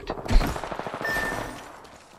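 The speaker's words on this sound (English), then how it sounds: "The enemies are shooting at me." Rapid bursts of enemy gunfire in a video game crackle close and loud, a dense fusillade that trails off after a second or so, with no talk over it.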